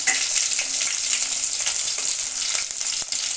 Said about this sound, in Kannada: ಈರುಳ್ಳಿ ಮೀಡಿಯಮ್ ಫ್ರೈ ಮಾಡಿ ಸಾಕು